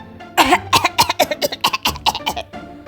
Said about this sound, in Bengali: ঘঙর ঘঙর করে কাশলেন